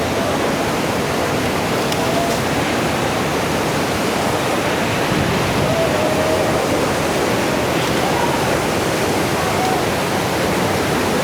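Spring water runs among rocks near Qoçyataq waterfall in Qax. It makes a continuous, close, even rushing wash that never lets up and has no voices over it.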